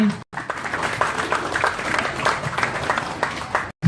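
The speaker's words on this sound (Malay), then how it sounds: "Tepuk tangan lagi sekali untuk yang berhormat Tan Sri" Applause from a crowd at a live political rally with a party president in Sekijang, Johor. It is a steady, dense wash of many hands clapping, fairly close, with a brief gap near the start.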